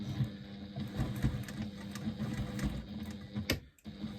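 Sewing machine running steadily as it stitches an eighth-inch seam across a press bag, a continuous close mechanical whir with one brief pause near the end.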